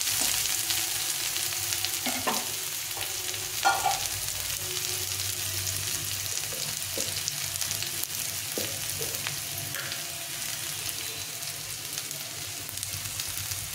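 Potatoes fry in a pan for upma with a steady close sizzle and hiss, broken by a few soft scrapes and clinks of stirring; no voices.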